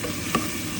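Garlic and ginger sauté in a pan, giving a short, steady sizzle and stir with a couple of faint clicks, fairly close, with no talking.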